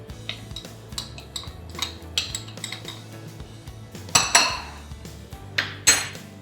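Eggs being whisked into a cornstarch custard base in a bowl, with repeated sharp clinks and scrapes of a utensil against the dish, a few louder knocks near the end.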